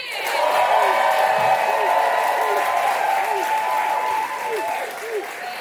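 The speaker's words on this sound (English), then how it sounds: "Audience, please make some noise if you want to hear more from Christiana Jackson." Live comedy club audience in New York applauding and cheering for comedian Christiana Jackson, a dense sustained roar of clapping with whoops and shouts rising over it, loud and steady for several seconds before easing slightly near the end.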